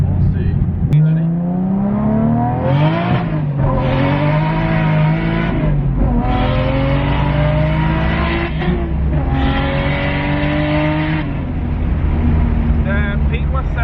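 A turbocharged Toyota JZX100 Chaser accelerates hard at full boost, its engine note climbing through the revs with brief drops at gear changes, heard loud and close from inside the cabin.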